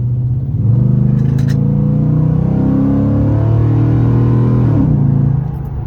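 A first-generation Ford F-150 Raptor pickup engine with a K&N cold air intake rumbles close by, revving up steadily with a deep, rising drone during a 30 mph pull, then eases off near the end.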